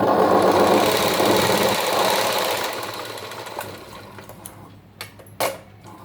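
A sewing machine stitches a blouse with a steady, close mechanical whirr that gradually slows and stops, followed by a few soft clicks and taps.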